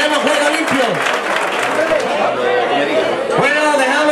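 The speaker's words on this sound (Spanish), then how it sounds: "Un fuerte aplauso para el árbitro." Crowd at a charity veterans' football match between C.D. Fuentes and Sevilla F.C. applauds the referee, a dense wash of clapping and chatter with voices speaking throughout, steady and fairly loud.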